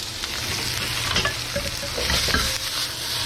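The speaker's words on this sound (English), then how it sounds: "Stir fry just until it's aromatic, so just about like 10 seconds." Garlic and scallions stir-fry in a hot pan for vegetable lo mein, giving a loud, constant sizzle with a few clattering taps and scrapes of a utensil, close up and without speech.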